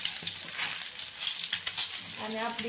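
Eggs sizzle steadily in a pan, seasoned with turmeric, garam masala and homemade chilli for a dhaba-style egg curry, a close continuous frying hiss with a brief voice speaking over it near the end.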